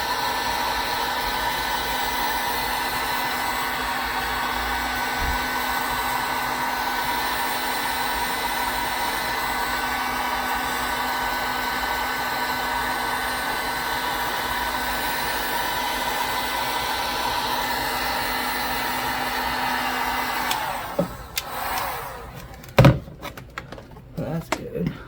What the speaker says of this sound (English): So take the heat gun. And do heat shrink all this up.